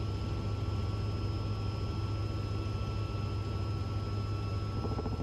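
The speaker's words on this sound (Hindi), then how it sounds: "ऊपर से जब हेलीकॉप्टर गुजरता है तो आपको बोलने की इजाज़त नहीं होती" A helicopter's engine and rotor drone on loud and unbroken, a steady low throbbing hum with a high whine on top, with no voices over it.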